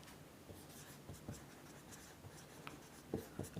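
Faint pen strokes scratch across paper as the given values of a chemistry problem are written down, quiet and close, with soft taps and scrapes in a hushed room.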